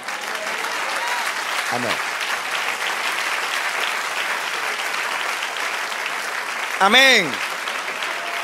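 Sustained applause from a church congregation fills the whole clip, steady and dense, while a preacher calls out briefly twice over it in Spanish.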